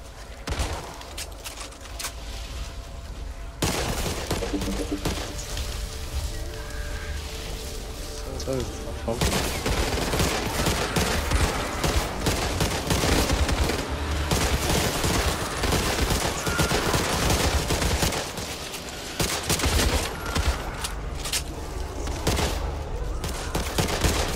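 Rapid bursts of gunfire from the zombie co-op shooter Back 4 Blood, dense repeated shots and fusillades over a busy game soundscape, with players talking over the action.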